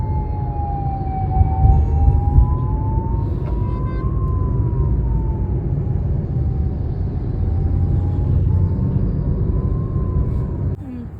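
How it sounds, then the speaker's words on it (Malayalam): An ambulance siren wails in a slow rising and falling tone as it passes through road traffic. Engine and road rumble sit steadily underneath, heard from inside a moving car. "ആംബുലൻസ്"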